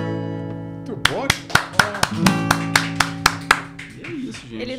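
A group of people claps in a quick burst of about nine sharp, close claps, with sustained musical tones and voices talking underneath.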